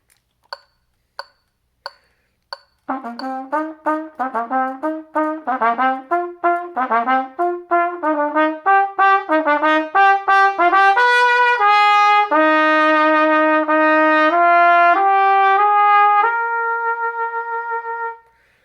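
Trumpets play a bright melodic passage, starting with a few short detached tones, then quick repeated notes building into longer sustained phrases.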